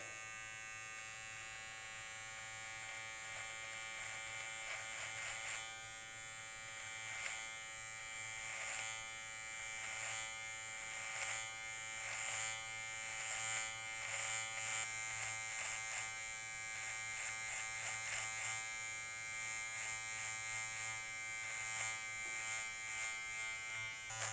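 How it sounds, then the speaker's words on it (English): An electric beard trimmer buzzes steadily while cutting across the bottom of a short beard, with rhythmic textured pulses as the blades pass through the hair, close and without talk. "we're going to run the trimmers straight across the bottom of my beard where I want it to be straight"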